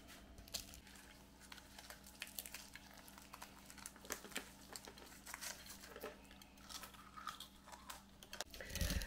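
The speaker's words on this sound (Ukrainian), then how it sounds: "Подивіться, як воно слоїться, як воно хрумтить." A flaky puff-pastry pie filled with potato and meat is cut open, giving faint, close crisp crackling and crunching in scattered bursts over a low background hum, with no voices.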